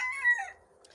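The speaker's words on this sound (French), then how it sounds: "T'as eu le coq qui chante avec nous." A rooster crows once, close and fairly loud. The call is short and strained, and it fades off into near silence.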